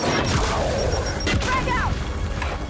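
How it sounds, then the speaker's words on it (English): A grenade blast in the video game Gears 5, with a sharp burst and crashing impacts sitting among clattering in-game effects, and a voice briefly audible in the background. "Throwing grenade!"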